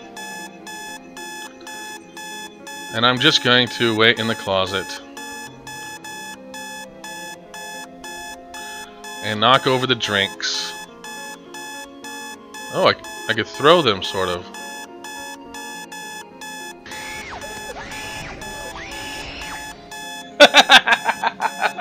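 Alarm clock ringing in the Midnight Zoo video game, a shrill electronic beeping that repeats in bursts, while a voice talks over it at length.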